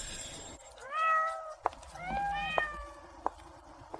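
A cat meows twice in a row, clear and fairly close, with a few sharp knocks in between and a quiet room behind.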